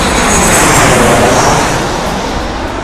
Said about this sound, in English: Southwest Airlines, runway 24 right.